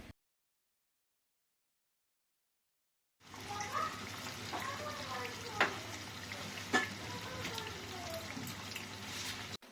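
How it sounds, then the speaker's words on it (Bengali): Fish frying in a pan alongside meat spices being sautéed, heard as a steady sizzle starting after a few seconds of silence, with occasional stirring clicks and scrapes. "একদিকে মাছ ভাজি হচ্ছে আর একদিকে মাংসের মশলা কষানো হচ্ছে"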